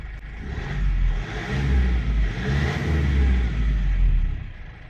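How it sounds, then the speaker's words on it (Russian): GAZelle NEXT bus engine running close by, a deep rumbling idle that swells with a few moderate revs and eases back down. "Давайте с вами запустим этот мотор и послушаем, как он звучит."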